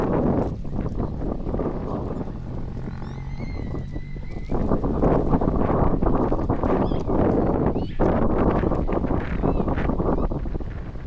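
Loud, constant wind buffeting the microphone at San Pablo Highlands, with low rumbling roar and gusty thumps throughout, no break in the noise.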